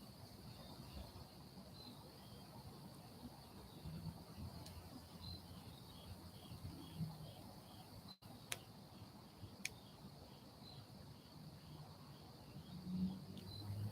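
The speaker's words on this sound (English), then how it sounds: "the crickets are the only thing I can hear" Crickets chirp at night, a thin, faint, steady high trill over a quiet background hiss, with an occasional soft click and no voices.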